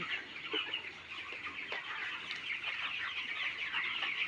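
Chickens in a poultry shed give a continuous murmur of soft clucks and chatter from many birds, moderately near and fairly quiet.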